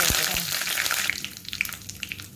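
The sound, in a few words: mustard seeds spluttering in hot coconut oil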